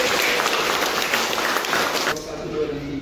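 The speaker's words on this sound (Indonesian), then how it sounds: "tepuk tangan dulu untuk kelompok" Audience at a university learning session applauding a group, a dense burst of clapping that cuts off abruptly near the end, with a voice talking over it.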